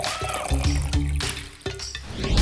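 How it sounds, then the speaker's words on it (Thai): Red-coloured water pours into a bowl with a close, steady splashing gurgle that shifts in pitch as it fills, and no voices. "เริ่มด้วยการเทน้ำแดงลงในชาม"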